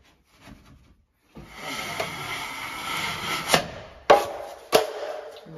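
A metal drywall knife drags along taped drywall joint compound in long, steady rasping strokes, close and fairly loud, ending with a few sharper scrapes and clicks as the blade reverses direction.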